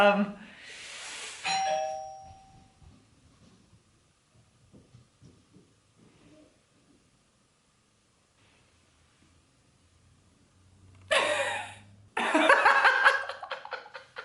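A doorbell rings twice as kids play ding dong ditch, once at the start and again near the end, each time with bursts of laughter and voices close by.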